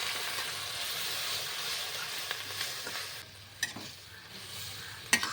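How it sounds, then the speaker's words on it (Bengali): Vegetables simmering in a sauce mixture with water for chilli paneer, a faint steady hiss and bubbling with a few light taps. "এগুলো একটু ফুটিয়ে নেবো সবজিগুলো নরম করার জন্যে"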